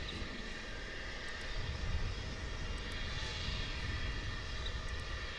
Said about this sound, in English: there's that MD-11, which we think may be going out